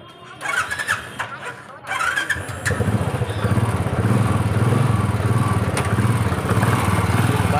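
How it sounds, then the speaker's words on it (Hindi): A Royal Enfield Classic 350 motorcycle engine sputters and catches, then settles into a steady, loud idle with a rapid throbbing rhythm. "बाइक स्टार्ट है"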